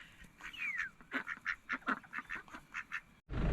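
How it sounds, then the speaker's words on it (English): A flock of ducks quacking repeatedly at a rest stop in Tasmania, a rapid run of loud, close calls that stops abruptly near the end. "Look at all these damn ducks."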